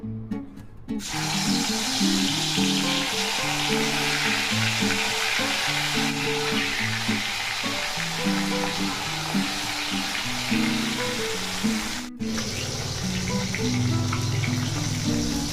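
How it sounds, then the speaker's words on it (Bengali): Fish rubbed with salt and turmeric fries in hot oil, giving a steady, dense crackling sizzle that continues throughout with no one talking. "তেলটা গরম হয়ে গেছে এরপর মাছটা দিয়ে দেবো"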